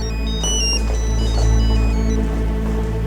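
A mobile phone ringtone rings out in the middle of a wedding ceremony, a steady repeating electronic melody over a constant low background hum, with no talking.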